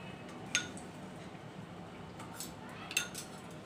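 A spoon clinks against a small bowl while curd is added for katori chaat, two light, sharp clinks about two seconds apart over a quiet kitchen background.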